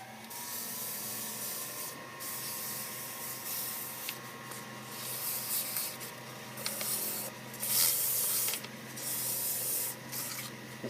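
Fine 600- and 1500-grit sandpaper rubs back and forth across a wooden wine bottle stopper in repeated soft strokes, a steady scratchy rhythm with brief pauses.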